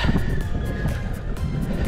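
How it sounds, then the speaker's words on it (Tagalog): Steady, heavy headwind roar buffets the microphone of a cyclist climbing uphill throughout, a dense rushing noise with no pauses. "Kakalaspag, ang lakas pa ng hangin."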